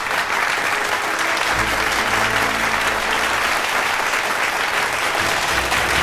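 Audience applause at an award ceremony, a dense sustained clapping from a large crowd that stays loud and even throughout, with faint murmuring beneath.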